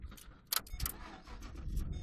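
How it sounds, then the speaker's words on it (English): A car engine cranks and catches on a newly programmed transponder key, with sharp clicks and a brief starter whir giving way to a low, quiet idle rumble, close by and with no voices. "put it in, start the car"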